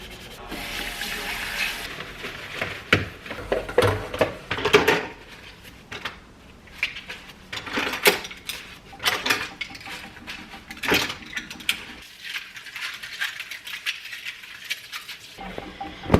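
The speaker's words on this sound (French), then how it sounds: "Faut que je fasse ma vaisselle en premier." Dishes being washed by hand in a home kitchen: repeated clinks and scrapes of plates, cutlery and pots with running water, close and fairly loud, in irregular bursts with short pauses and no talking.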